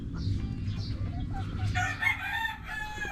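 A rooster crows loudly over the steady clucking and murmuring of a flock of chickens nearby.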